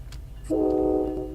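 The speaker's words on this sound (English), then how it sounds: "This train has probably the best American train horn there is." An American passenger train horn in the Train Sim World 2 video game, Northeast Corridor, heard from inside the cab as one loud, sustained multi-tone chord that starts abruptly midway and holds steady over low rumbling, with no talk.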